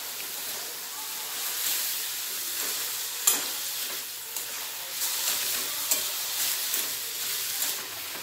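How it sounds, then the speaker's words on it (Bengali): Bamboo shoots fry in a hot pan with a constant bright hiss and sizzle, broken by scraping stirs and occasional louder spits over several seconds. "ভালো করে এটা ভেজে নেব আমি"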